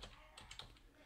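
Soft keyboard clicks on a computer keyboard as a web address is typed, a short quick run of light keystrokes, quiet and close.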